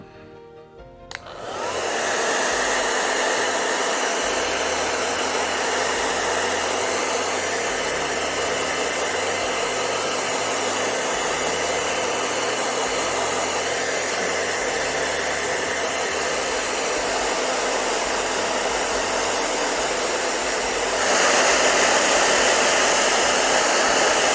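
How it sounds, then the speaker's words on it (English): A hair dryer aimed at a statue switches on and blows steadily at full power, a loud continuous whooshing hum that barely changes for over twenty seconds. "grab the hairdryer"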